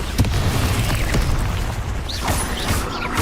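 A Confringo blasting spell explodes in Hogwarts Legacy combat, a loud, dense burst of booming, crackling impact noise with mechanical rattles and whooshing spell effects filling the whole stretch.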